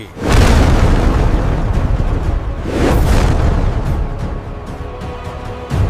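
A heavy, booming punch impact effect hits hard and rolls on, followed by a second swelling rumble and a fading tail, loud and alone with no speech.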